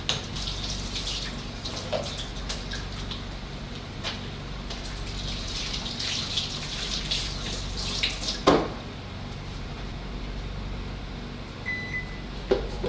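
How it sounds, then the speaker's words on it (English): A kitchen tap runs steadily while hands are washed under it after mixing turkey meatball mixture, producing a continuous close rushing hiss with occasional splashes. "let's wash our hands"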